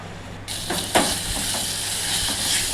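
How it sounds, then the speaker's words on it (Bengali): Spice paste being stirred and fried in oil for dim er kalia, an egg curry, giving a close, steady sizzle with a few scraping stir strokes, alone without talk. "দেখতেই পাচ্ছ মশলাটা খুব সুন্দরভাবে ভাজা হচ্ছে"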